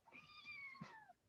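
A pet cat waking up lets out a single drawn-out meow, rising then sliding down, faint and close, heard alone in a quiet room.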